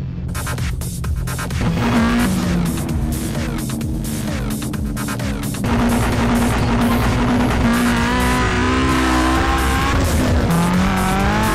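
A tuned car in GTA San Andreas, fitted with four-wheel steering, drives hard with a loud, steady engine drone, rising revs and repeated tire squeals and skids, with no voices over it.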